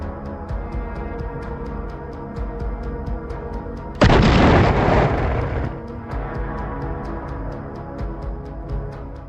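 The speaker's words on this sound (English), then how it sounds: "it slammed directly into the lead motorcycle, igniting a violent explosion" A sudden, loud explosive blast from an FPV drone striking a motorcycle erupts midway and rumbles for about two seconds over a steady, rhythmic background.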